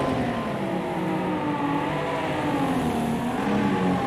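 Vintage touring cars racing side by side through the turns of a speedway oval, a loud continuous engine drone with a gently wavering pitch, close and unbroken.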